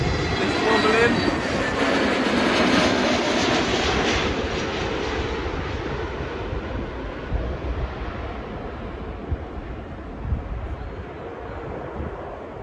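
An airliner arriving from Corfu, Greece, comes in to land at Heathrow Airport on a wobbly approach, a loud broadband engine roar that slowly fades and thins over the clip, with faint talk mixed in.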